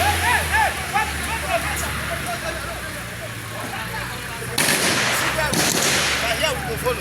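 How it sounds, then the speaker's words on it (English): Gunfire during a raid on a kidnap den in Nigeria, heard as bursts of cracking shots over a steady outdoor roar, with a louder stretch near the end and voices shouting amid the noise. "They are firing us."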